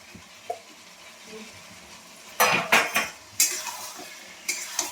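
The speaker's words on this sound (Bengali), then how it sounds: "এবারে আমি একটু নেড়ে জল ঢেলে দিলেই হয়ে যাবে আমার ডিমের কষা" Egg curry with potatoes stirred in a pan, a spoon scraping and clanking against the metal in a few sharp bursts after a quiet start, close and fairly soft, with no talk.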